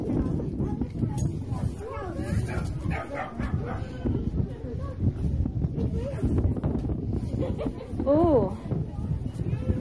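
A dog barks repeatedly outdoors at a yard sale, several sharp bow-wows and a few yips and whimpers under steady wind buffeting the microphone, with people talking throughout.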